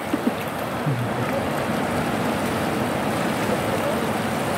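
Sea waves wash against a small boat at sea, a steady broad rushing with light splashes and a couple of soft knocks early on, continuous and fairly close.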